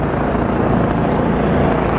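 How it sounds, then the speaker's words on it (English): Two helicopters hover over a dense New York street crowd, their rotors and engines a loud, continuous, rumbling wash with no break. "there's actually a helicopter out here for them. There's 2 helicopters right now."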